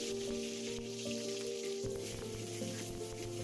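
Mustard seeds and curry leaves sizzle and crackle in hot oil in a wok, a steady close frying hiss with scattered pops, no voices.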